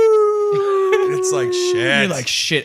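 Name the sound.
voice imitating a wolf howl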